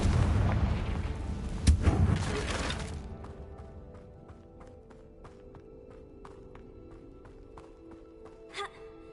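Confringo blasting spell explosions in the Hogwarts Legacy video game, a loud booming rumble with a sharp crack that fades into a quieter tail of small clicks, light footsteps and a later soft impact.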